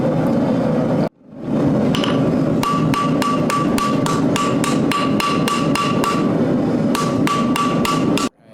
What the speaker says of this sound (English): I was hammering on it too cold, so it snapped off